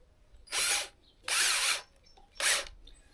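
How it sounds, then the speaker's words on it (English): A power drill with a 20mm bit whirs through wood in three short bursts, close and clear, with quiet pauses between each. "and I'll just drill it"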